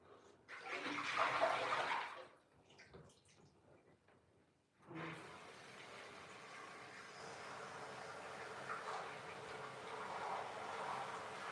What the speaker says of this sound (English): this is the hardest veggie to wash because it just bounces off the water.